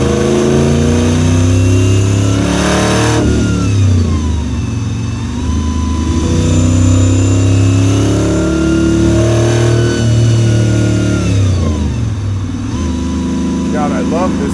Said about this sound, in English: I love how you hear that whine from the blower the whole time